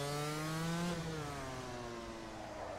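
SuperKart racing game engine at Croft Circuit, a loud, buzzy high-revving whine that holds steady, then drops in pitch as it shifts up near 13,000 RPM and climbs again, continuous with no talk over it.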